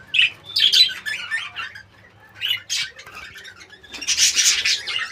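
A breeding pair of rainbow lovebirds calls close by in short, shrill bursts of chirps and squawks, with brief pauses between clusters and a longer, denser flurry at the end.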